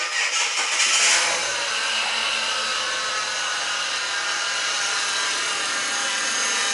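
A Ford BA Falcon engine starts and settles into a steady, loud running drone close by, with no voices over it.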